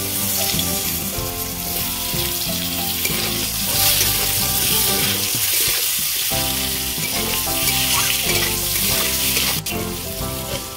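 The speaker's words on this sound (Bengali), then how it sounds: "আমগুলো আমি ভেজে নিয়েছি, তুলে নেব" Raw mango pieces frying in hot oil for a Bengali fish curry, giving a steady, continuous sizzle close up throughout, with a tonal background layered underneath.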